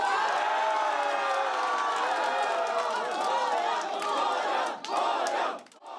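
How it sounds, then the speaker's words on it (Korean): Campaign supporters burst into loud, sustained cheering and shouting after an election win, a crowd roaring close by that dips briefly and fades toward the end. "밤새 TV를 지켜보던 캠프에서는 환호성이 터져나옵니다"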